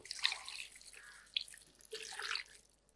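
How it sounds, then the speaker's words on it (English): Water added to a cooking pan of sweet potatoes in a curry base, producing soft hissing and splashing bursts, fairly quiet and close, with no talking. "Mix everything nicely and add about half to 1 cup of water."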